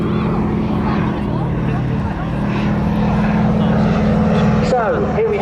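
A propeller aircraft flies past loud and near at the Southport Airshow 2024, with a sustained droning engine and a shifting pitch as it crosses, while a commentator's voice carries over it.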